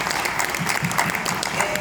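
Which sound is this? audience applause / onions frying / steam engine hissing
audience applause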